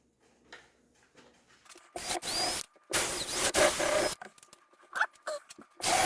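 A big power drill bores circles through carpet in loud, harsh bursts of a few seconds each, broken by short quiet pauses and lighter handling noises, with no talking.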